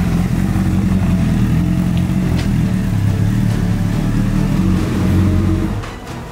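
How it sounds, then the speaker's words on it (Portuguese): A Honda CBR1000 motorcycle engine filled with beach sand rumbles loudly and continuously at close range, revving with a rough, gritty rattle before easing off at the end. "olha a barulheira que tá na sua moto, Léo."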